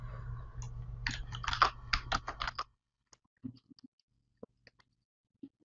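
Proxy text typed on a computer keyboard, a close run of rapid key clicks for about two and a half seconds, then near silence broken by a few scattered isolated taps.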